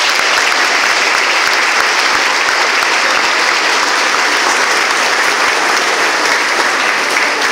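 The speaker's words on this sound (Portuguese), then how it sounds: "Mais um forte aplauso" Wedding guests applauding a newly declared married couple at their ceremony, loud, sustained and evenly dense clapping from a full room that carries on without pause.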